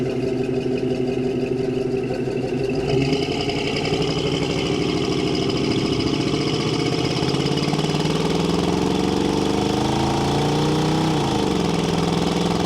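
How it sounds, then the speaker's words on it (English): A 1987 Chevrolet Blazer's engine and exhaust rumble while it is driven, a steady mid-level drone that rises in pitch as the throttle opens and then shifts down; no talking. "when you're in the throttle, you definitely hear the exhaust"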